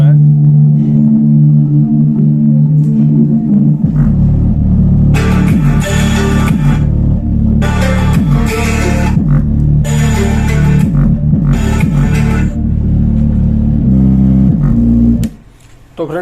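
Bass-heavy NCS electronic music played through a repaired Panasonic SC-HT40GW-K home theater system, with loud, booming low end throughout and bursts of brighter synth sections.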